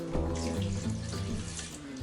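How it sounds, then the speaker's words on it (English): Half a cup of water poured into a pan of canned broad beans over high heat, a brief steady splashing gush, close and fairly loud. "we're going to add in half a cup of water"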